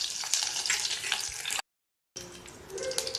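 Curry leaves and chillies frying in hot oil, a continuous crackling sizzle with a brief gap of silence partway through, then the frying resumes.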